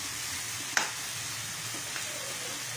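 Tomatoes softening in hot olive oil in a pan for ginisang pechay, a steady soft sizzle with a brief clank of a utensil partway through, no talking.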